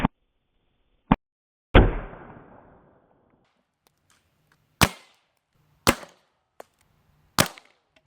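A Hatsan Vectis lever-action PCP air rifle fires several sharp, isolated cracks, close and loud against near silence. One shot rings with a longer decaying tail, and lighter clicks and knocks from handling come between shots.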